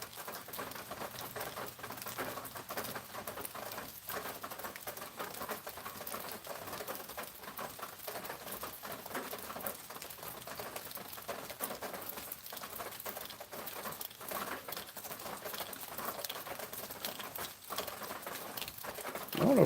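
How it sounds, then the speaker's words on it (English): Rain patters steadily on a tin roof on a rainy day in Georgia, a faint, dense crackle of drops going on without a break and with no voices. "Can y'all hear the rain hitting the tin roof?"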